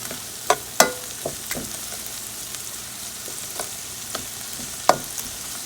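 Mushrooms cooking down in a hot pan, a soft even sizzle underneath with several sharp clacks of a utensil against the pan spaced irregularly, close by and with no speech.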